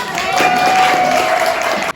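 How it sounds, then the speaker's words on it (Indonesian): A classroom of students gives a round of applause, a dense, steady patter of many hands clapping together that stays fairly loud for about two seconds before cutting off abruptly. "Tepuk tangan dulu dong"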